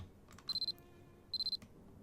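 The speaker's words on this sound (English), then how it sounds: "The alarm on my cell phone sounded as if an answer." In the horror game Corpse Party: Book of Shadows, a cell phone alarm rings in two short bursts of rapid electronic beeps, four pulses each, separated by a brief pause, clear over a quiet background.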